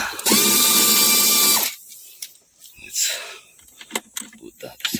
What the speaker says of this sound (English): Now we need to remove these two bolts here, 10 mm, this one and this one